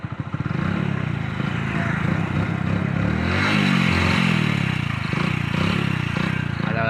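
A motorcycle engine close by, idling with a rapid putter and then revving up and down in a loud, sustained roar, with some rattling clatter and no clear talking.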